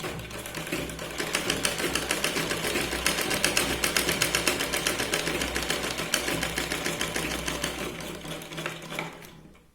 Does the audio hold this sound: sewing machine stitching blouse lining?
yes